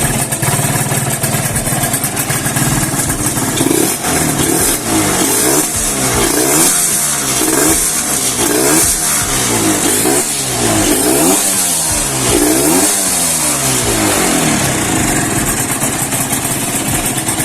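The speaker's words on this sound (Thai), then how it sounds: "เครื่องแน่นๆเงียบๆนะฮะ" A Yamaha TZR motorcycle with a VR front end runs close by, its engine idling and then revved in a series of rising and falling blips before settling back to a steady idle.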